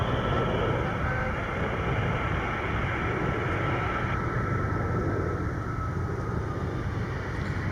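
A jet airliner departs the runway at Charlotte airport, a loud steady broadband engine roar heard from a distance, sustained and even throughout with no voices.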